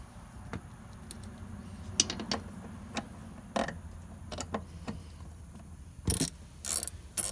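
A ratchet starts bolts back into the fuel pump on a Mule 610, a quiet series of irregular clicks and short metallic ratcheting bursts, with a louder cluster near the end and no talking.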